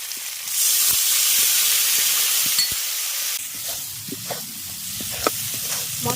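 Spice paste frying for a jackfruit and prawn curry, with a little water added. A loud hissing burst of steam fades into softer sizzling, broken by irregular clicks and scrapes of stirring.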